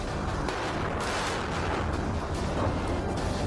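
Gunfire and bomb blasts during fighting in Sudan, a dense continuous roar of distant shots and explosions blurring together, steady and harsh with no clear breaks.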